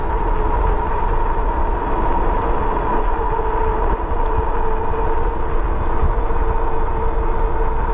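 A HAOQI Cheetah dual-battery e-bike motor under full throttle, with a steady loud whine and constant rushing wind and road roar that hold without a break.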